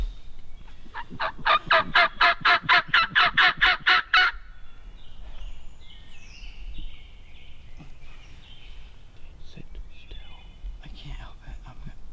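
Wild turkeys gobble on a hunt, a loud rapid rattling gobble lasting a few seconds, followed by quieter scattered bird calls over outdoor background noise, with low whispering from a person nearby.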